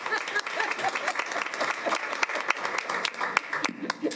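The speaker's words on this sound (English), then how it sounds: "Yeah, that deserves a round of applause." Applause from a modest audience at a school board of education meeting, scattered distinct claps over a steady patter, with some voices murmuring underneath.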